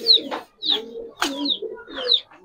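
Giribaz silver lalpatti pigeons coo nearby in four short, closely spaced phrases, each a low throaty burble with a brief higher note.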